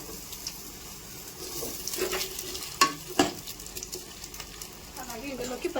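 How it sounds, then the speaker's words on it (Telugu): Chopped onions fry in hot oil in a pot, a steady soft sizzle with scattered stirring clicks and two sharper clanks of a spoon against the metal near the middle. "ఉల్లిపాయలంతా బాగా ఫ్రై చేసుకుందాము"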